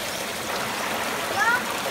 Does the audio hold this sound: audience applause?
no